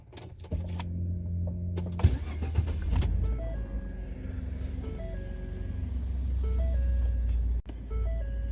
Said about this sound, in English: I'm gonna go ahead and start the vehicle and then turn the AC up